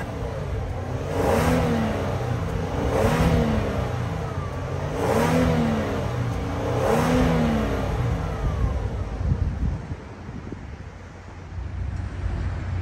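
The 3.3-liter twin-turbo V6 of a 2019 Kia K900 luxury sedan with dual exhaust revs four times in even, swelling pulses, then settles to a steady idle under outdoor wind noise.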